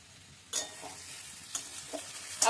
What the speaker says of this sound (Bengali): আলু মোটামুটি ভাজা হয়ে আসছে